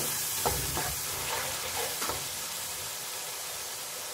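Yogurt is stirred into frying tomatoes in a pot of pulao, a constant bright sizzle with a few soft scraping knocks of the spoon early on, no voices.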